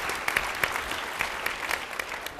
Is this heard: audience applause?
yes